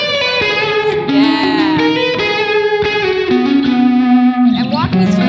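Electric guitar played through an amp with distortion and chorus effects, sustained chords and melodic lines ringing with thick harmonics, loud and close with no talk over it.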